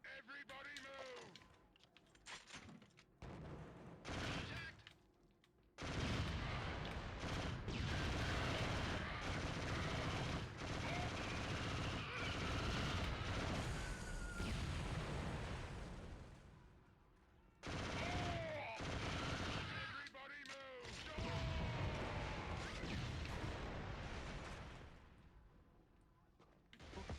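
Dense, sustained gunfire and explosions from the Killzone PS2 shooter, loud and continuous battle noise with bursts and brief gaps, likely including machine gun fire amid the chaos.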